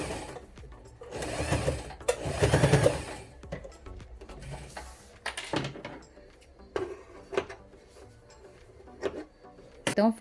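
Sewing machine stitching a pull tab onto a fabric pencil case, running in short rattling bursts close by, the longer runs coming first and then giving way to brief taps and pauses.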